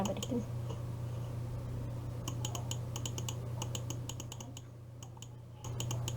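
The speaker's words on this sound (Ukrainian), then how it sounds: "Ось, просто зараз клікаю." Rapid, light clicking taps come in clusters over a steady electronic hum while someone plays Geometry Dash, with no talk.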